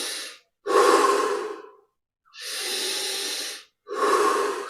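Slow, deep breaths during a meditation session, close and clear, with three long airy exhalations and inhalations separated by silent pauses.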